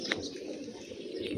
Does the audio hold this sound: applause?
no